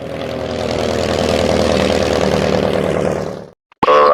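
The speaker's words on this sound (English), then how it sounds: "Biplane." A biplane's engine drones steadily and loudly for a few seconds, then cuts off abruptly, followed by a brief burst of noise.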